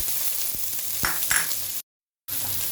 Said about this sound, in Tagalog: Okay, drop natin yung bawang.